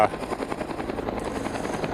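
Heli-logging helicopter running in the morning at a logging site, a steady loud rotor chop with rhythmic blade pulses and engine whine throughout, close by.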